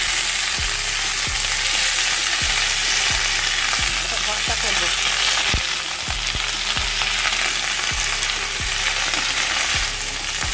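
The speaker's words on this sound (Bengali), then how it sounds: "পাতাটা ভাজা করছি" Fresh cauliflower leaves frying in hot oil give a loud, steady sizzle throughout, with regular scraping taps of stirring and a short spoken phrase.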